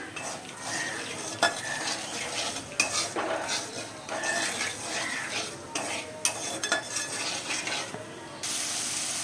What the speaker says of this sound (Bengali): এবার নাড়বো আমি।